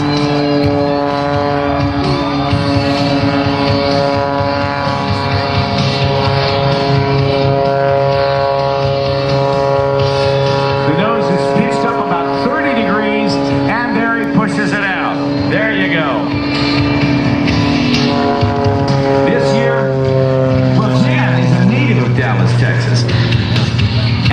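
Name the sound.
aerobatic airplane flying slowly nose-up at airshow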